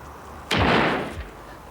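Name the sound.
coal dust explosion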